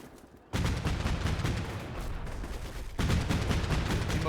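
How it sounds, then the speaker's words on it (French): Sustained gunfire in the Combat Mission Black Sea war game, with a dense, continuous crackle of rifle and machine-gun shots that starts abruptly and intensifies partway through. "Je tire un peu. Je vais perdre un peu toutes mes munitions."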